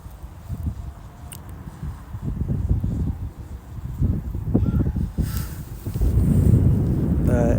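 Gusty wind buffets the microphone in low rumbling bursts that grow stronger toward the end during a DJI Mini 3 Pro drone flight, with a faint bird call briefly audible.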